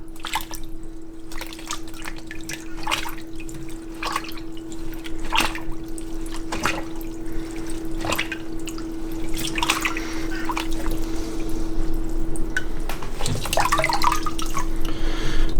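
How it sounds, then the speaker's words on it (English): Intermittent splashing and watery sloshing with scattered drips as a waterproof winter glove is flexed underwater, continuous over a steady low hum, fairly close and moderate in level, no talking. "Let's flex the glove in the water."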